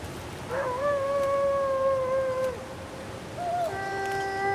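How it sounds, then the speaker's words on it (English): A wolf in The Long Dark survival game lets out a long, wavering howl with rising and falling pitch, then a second howl starts after a short pause. It sounds moderately distant over a steady windy backdrop, with no talking. "There's a wolf."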